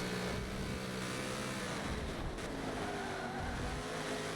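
Loud, continuous racing-car engine roar with loud tire noise from a racing video game, steady and close throughout, no voices.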